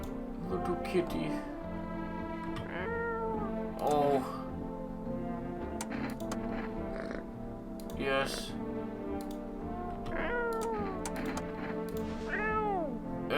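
A cat in a video game meows repeatedly in rising-and-falling calls spread through the stretch, mixed with light clicking and a person talking over it.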